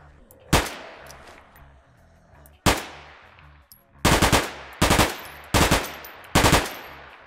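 Gunshots ring out in the zombie video game ZSGO: two single loud blasts, then four quick bursts of rapid fire, each cracking sharply and ringing off, close and loud.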